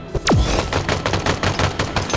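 Rapid gunfire in the shooter Halo Infinite during a bot slayer match, loud dense bursts opening with a sharp descending whoosh, then a continuous close rattle of shots.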